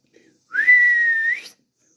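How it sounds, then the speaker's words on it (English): A person whistles to call cattle in from a field: a single sustained, steady whistle lasting about a second, clear and fairly close, with no other sound around it. "I'd sit and whistle for him a couple of times."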